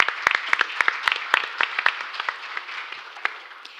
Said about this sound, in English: We need another big round of applause to our moderator to lead the plenary session smoothly.